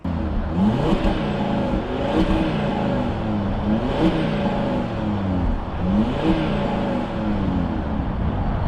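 An Audi RS Q3 sports SUV engine revs repeatedly with a throaty exhaust roar, swelling and falling in several close, loud bursts with no one talking.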